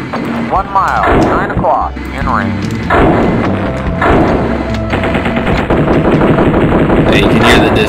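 Heavy AC-130H Spectre gunship cannon fire in a flight-sim video game: rapid bursts of 20mm and 40mm autocannon rounds mixed with deep booming 105mm shots, loud and close, with a voice talking over it.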